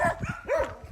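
Dogs barking at houses in a Philippine village, a few short yapping barks close by and fairly loud, with no talk over them.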